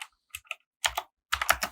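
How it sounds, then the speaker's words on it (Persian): Several quick keystrokes on a computer keyboard as a command is entered into a Linux shell, a few isolated taps and then a short burst of typing, close and clear in a quiet room. "میتونین کامنت هاتون رو توی این قسمت تایپ کنین"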